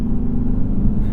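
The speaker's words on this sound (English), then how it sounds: "Little bit of noise coming out of that 5-liter V8 right there." A deep, steady 5-liter V8 engine rumble from a 2023 Lexus RC F throbs low and close, a continuous throaty drone running at an easy pace.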